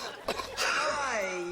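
An older woman gives a harsh, raspy smoker's cough of a few hacking bursts that trail into a rough, drawn-out throaty wheeze, close and loud.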